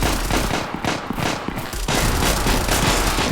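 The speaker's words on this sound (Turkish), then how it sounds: "Çatışma sesleri çok güzel." Video game firefight with dense, sustained bursts of rapid gunfire, loud and continuous with a brief lull in the middle before the shooting resumes.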